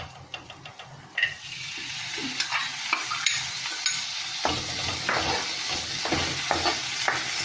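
Mixed vegetables for cauliflower rice are stirred in a hot pan with garam masala, a soft sizzle under repeated scraping and clacking strokes of a spoon, close and fairly quiet.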